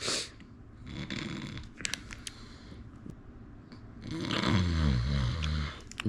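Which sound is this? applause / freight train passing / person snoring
person snoring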